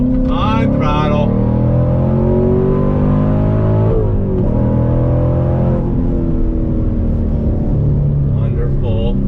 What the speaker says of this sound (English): Downshift in a second, get some pops out of the back. Let's do a turn in here. Here we go. On throttle.